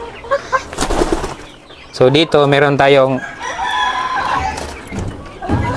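Hens and young chicks cluck and call inside a poultry house with automatic lighting, with a couple of loud, drawn-out squawks close by. Someone speaks briefly between the bird sounds.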